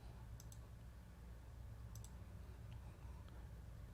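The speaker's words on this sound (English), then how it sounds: "Then I'll click the add symbol." Faint computer mouse clicks during work in Studio One 4 software, a few quick sharp double clicks spaced a second or so apart over a quiet low background hum.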